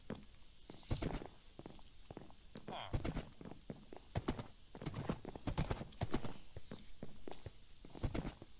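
Hoofbeats of a horse in the Minecraft video game during a village raid, a steady run of clip-clop steps with occasional thunks and game effects, heard throughout.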